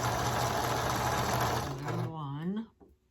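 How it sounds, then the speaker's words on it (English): Sewing machine joining quilt block pieces, a loud steady whir for about two seconds before slowing and stopping, with faint talk near the end. "we're going to sew 4 of those together"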